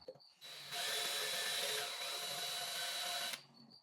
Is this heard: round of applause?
no